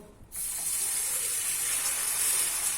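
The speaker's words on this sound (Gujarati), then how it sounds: "હવે હું નાખી દઈશ એમાં આ ગરમ પાણી" Hot water poured into a pan of ghee and semolina for sheera, an abrupt onset followed by a loud, continuous hissing gush and sizzle that holds steady to the end, with no talk.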